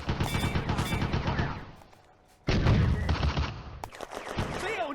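Dense bursts of gunfire and explosions from the Eastern Front wartime video game Firefight, set in the Dalnegorsk city centre battle of June 1941: loud overlapping shots, a brief lull near the middle, then renewed heavy firing.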